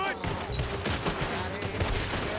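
Rapid gunfire crackles in Red Dead Redemption 2, repeated shots fired in quick bursts under overlapping voices and game noise.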